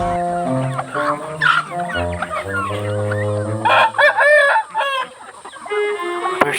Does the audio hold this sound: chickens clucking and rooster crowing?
yes